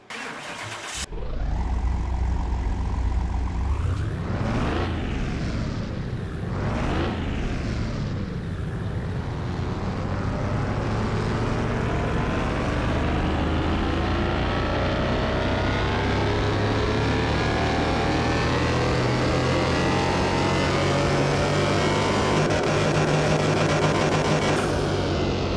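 In Car Mechanic Simulator 2021, a rebuilt junkyard car engine cranks and catches, then revs in a few loud swells before settling into a steady, loud idle-to-high drone that carries on alone for the rest of the stretch.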